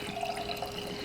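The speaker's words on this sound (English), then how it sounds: "So all I do is put my coffee in a pitcher." Brewed coffee pours steadily into a pitcher in a home kitchen while preparing coffee for canning, a close, continuous liquid splash and trickle with no talk.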